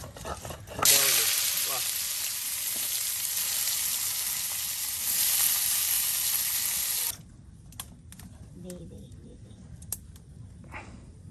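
Steady loud sizzling of food frying on three stoves at once in a traditional village kitchen, with an occasional clatter. It then drops to quieter scraping and clinks.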